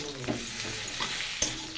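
Ginger, garlic, tomato, cumin, garam masala, green chili and black pepper fry in a pan with a soft continuous sizzle, broken by occasional scraping stirs of a spatula.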